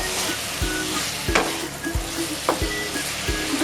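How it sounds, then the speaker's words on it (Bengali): Boiled button mushrooms for mushroom do pyaza sizzle in a hot pan while a spoon stirs them in steady, repeated scraping strokes. The frying is close and constant, with no talking. "এবার আমি দিয়ে দিচ্ছি সেদ্ধ করা মাশরুমগুলো। এটা ভালো করে এর সাথে মিশিয়ে নিতে হবে।"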